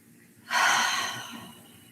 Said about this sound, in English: Take nice deep breaths in and out.